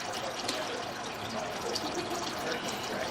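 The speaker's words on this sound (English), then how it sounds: "somebody is running water in the house" Water runs from taps or a flushed toilet inside a house, a continuous hissing flow heard close and fairly loud, steady throughout with no break.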